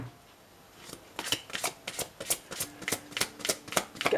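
Tarot cards being shuffled during a reading, heard as a steady run of crisp riffling bursts, about two per second, close and fairly loud after a brief quiet start, with no talking.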